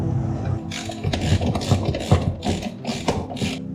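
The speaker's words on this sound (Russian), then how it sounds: "Пробую закрутить гайку." Someone tightens a wheel nut on a Piaggio Big Block 125 scooter, making a run of quick metallic ratcheting clicks in short bursts, close and fairly loud, with no talk.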